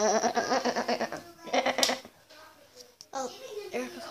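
A person imitates a goat, giving a series of wavering, nasal bleats in quick succession, then a pause and a couple more bleat attempts.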